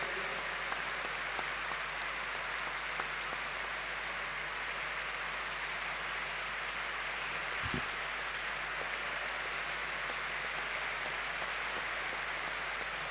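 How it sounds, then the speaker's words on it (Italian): Steady prolonged applause from an audience at a talk on youth and training, an even, rain-like clapping wash that holds at a constant level throughout without pause. "anche questo applauso che, che, è prolungato"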